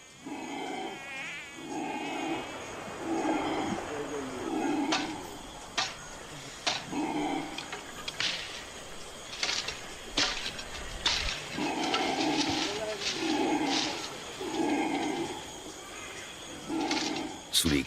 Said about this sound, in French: Sous les cris de protestation des singes hurleurs, nous installons 4 bâches imperméables.